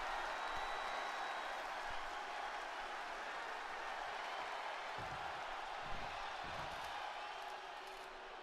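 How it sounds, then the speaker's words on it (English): A wrestling crowd applauds and cheers steadily, a distant wash of clapping and voices with a few louder bursts midway, over a faint background tone. "The crowd completely off their feet"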